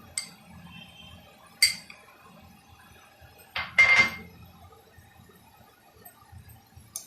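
A spoon clinks against a bowl a few times as spoonfuls go in and get stirred during home cooking, with sharp, close knocks separated by quiet pauses.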